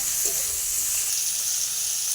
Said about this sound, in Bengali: ডুমুরার আলুটা দিয়ে কড়াইতে বেশ কিছুক্ষণ নাড়াচাড়া করতে হবে